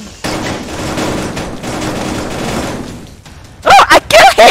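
Bursts of rapid gunfire from a VR shooter game fill most of the clip, loud and close, ending with a few sharp separate shots.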